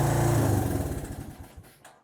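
A cheap $300 four-wheeler ATV engine sputters and revs loudly up close for a couple of seconds, its rough, uneven pulsing winding down and fading toward the end.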